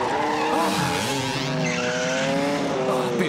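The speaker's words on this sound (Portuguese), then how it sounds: "É hora de aquecer os motores." In a Woody Woodpecker cartoon race, several race car engines rev steadily with tires squealing and skidding, loud and close throughout, their whining pitches rising and falling together.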